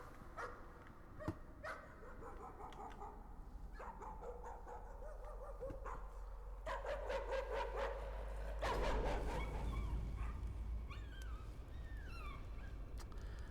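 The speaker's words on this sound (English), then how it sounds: "Ah, dog." A dog in the video game Layers of Fear barks repeatedly in short bursts and whimpering yips, fairly close, over a low rumbling background that grows louder toward the end, with no talk.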